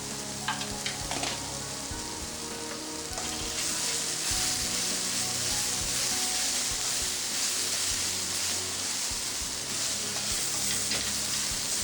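Onions fry with a pinch of turmeric in a pan while being stirred, a steady close sizzle with scraping strokes early on, the frying hiss growing louder and denser after the first few seconds and holding to the end.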